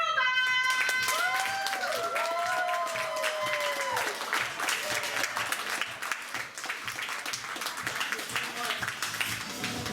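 Applause and cheering for a band at a live music show, starting as music ends with sustained tones fading out, then a full crowd clapping steadily with voices mixed in.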